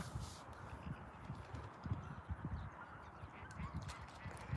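Ducks honk and quack in a noisy cluster, with overlapping calls and splashing close by.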